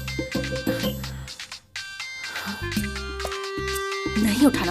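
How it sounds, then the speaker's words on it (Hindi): A phone ringtone plays a melodic tune and keeps ringing over background music, with voices talking over it in a scene from a South Indian film. "इसका फोन क्यों आ रहा है?"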